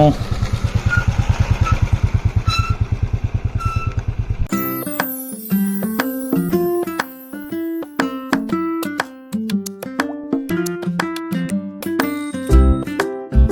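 A motorcycle engine putters rhythmically for a few seconds on winding roads toward Harishchandragad fort, then music takes over with occasional engine bursts beneath it.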